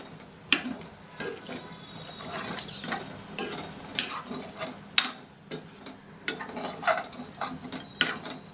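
Goat lung pieces cooking with onions, salt and turmeric are stirred in a pan: a soft ongoing sizzle broken by scraping strokes and a few sharp utensil clinks against the pan, close up and without speech.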